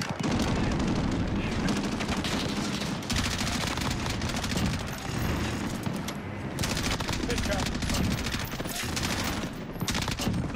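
A voice imitates rapid automatic gunfire from an M4A1 and ACR in a Modern Warfare 2 match, delivering dense, continuous bursts close to the mic with barely any pauses.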